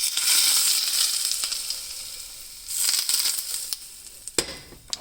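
Hot oil sizzles and fries over ginger paste in a pan, a steady bright hiss that swells near the start and again midway, with a few sharp crackles and pops toward the end.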